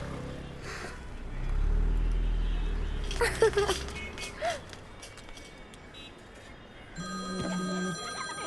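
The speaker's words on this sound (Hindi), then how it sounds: "फिर से फोन करा है।" A telephone rings in bursts amid faint background noise and a low rumble, with brief thuds and other scattered sounds between rings.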